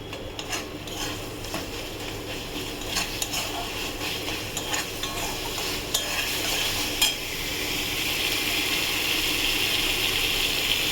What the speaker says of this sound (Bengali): মশলাটা আমার কষা হয়ে গেছে